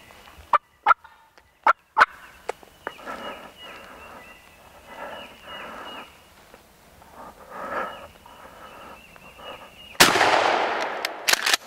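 A wild turkey gobbles several times in the distance while hunting on Alabama public land, followed by a quiet stretch and then one sudden, loud gunshot that rings out at the end.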